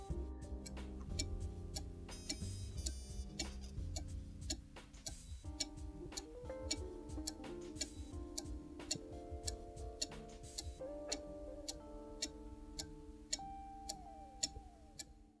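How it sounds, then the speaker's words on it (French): A Black Forest cuckoo clock ticks in a steady, even rhythm, crisp close mechanical clicks repeating throughout with faint metallic resonance and small rattles in between. "ajustez l'horloge au mieux jusqu'à obtenir un tic-tac régulier."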